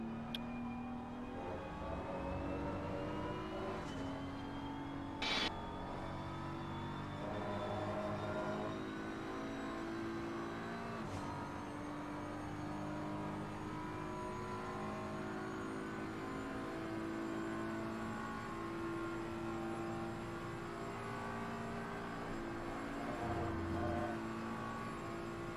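Race car engine in a 24-hour Spa endurance racing video game, a steady close droning engine note that climbs and falls in pitch with upshifts and downshifts, at moderate volume.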